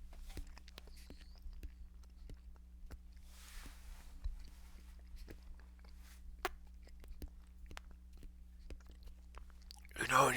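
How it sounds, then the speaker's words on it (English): Soft wet chewing of a microwave burrito eaten close to the mic, a steady run of small crunches and squishes with faint breaths and a louder rustle at the very end. "when you're just chewing so much food"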